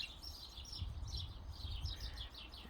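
Several birds chirp and trill in repeated high bursts over a low steady rumble outdoors, fairly faint and continuous, with no voices.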